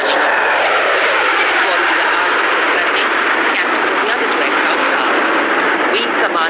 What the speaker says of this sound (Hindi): इस वक्त आप देख रहे हैं ये एडवांस लाइट हेलीकॉप्टर जो सारंग टीम के हिस्सा है, एक्रोबेट्स करते हैं।